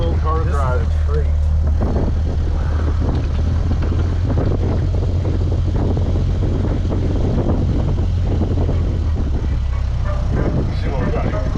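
A 1925 Dodge car drives along a road with a constant low engine drone and heavy wind and road rumble, while people talk inside the cabin.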